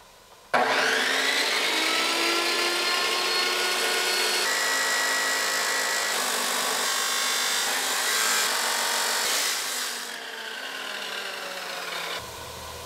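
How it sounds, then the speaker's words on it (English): A power tool cuts loudly and steadily through excess steel from a 3-inch trailer channel on a 2019 PJ equipment trailer, starting abruptly with a harsh whine that fades slightly near the end as the cut finishes. "So now we're just going to cut the extra."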